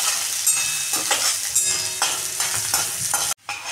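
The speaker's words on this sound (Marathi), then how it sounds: "कांदाही चांगला भाजून घ्यायचा आहे आपल्याला." Onion frying in a pan for a home cooked dish, a continuous close sizzle broken by the scrape and clatter of stirring, with a brief silent gap near the end.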